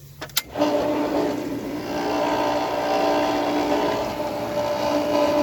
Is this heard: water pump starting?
yes